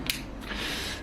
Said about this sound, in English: You can hear the fan running in the background there